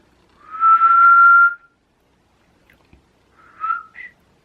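A person whistles one long, steady, sustained note, then after a pause adds a short two-note whistled phrase, all close and clear with no talking.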